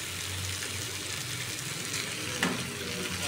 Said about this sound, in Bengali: আলুটা দিয়েও একটু সুন্দর করে ভেজে নেব